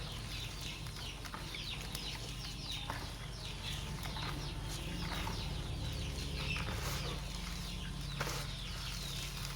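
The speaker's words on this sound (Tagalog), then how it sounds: "Sobrang gana ng mga sisiyo natin kumain ito dahil mayroong Vitamin Pro Water Soluble Powder." Chicks eat feed mixed with vitamin powder on a farm, giving a faint, busy mix of soft pecking, light chirps and fluttering under a steady background hum, with no talk.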